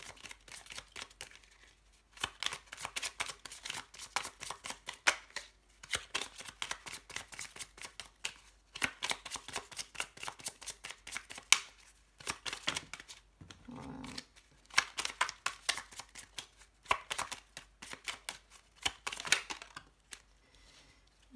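Oracle cards shuffled for a tarot-style reading, a run of quick riffling, flicking bursts repeating in short rhythmic waves, fairly close and clear with brief pauses between rounds and no talking.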